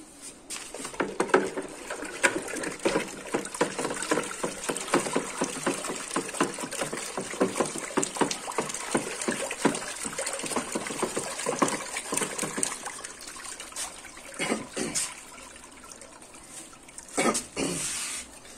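Citric acid being stirred into water in a container, a continuous stream of quick scraping, clinking and sloshing strokes, fairly close and moderately quiet, with a brief pause before the stirring resumes near the end.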